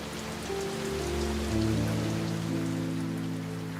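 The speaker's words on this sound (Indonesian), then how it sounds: "Mana hujan deras lagi." Heavy rain pours steadily and loudly on surfaces, a dense continuous patter with a low droning hum running underneath.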